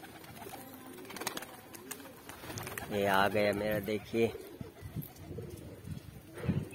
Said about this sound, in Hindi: पिंक वाला कबूतर